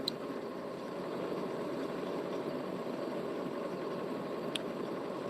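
A car in motion, heard as a steady, muffled engine rumble and road noise from inside the vehicle, continuous and even with no voices.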